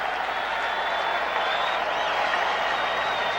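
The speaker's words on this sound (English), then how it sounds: "the crowd is roaring" A baseball stadium crowd at a 1979 World Series game roars and applauds in a dense, steady wash of cheering, with no break for its whole length.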